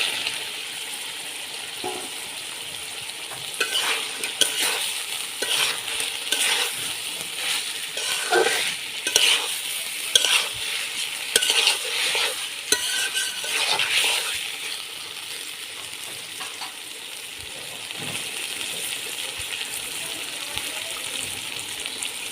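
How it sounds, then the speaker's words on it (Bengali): Fried pointed gourd and potato pieces tumble into a pan of cooked-down spices, giving a steady sizzling, scraping and stirring texture with irregular clinks and bursts, fairly close and continuous with no talk. "এখন দিয়ে দেব ভেজে রাখা পটল আলু"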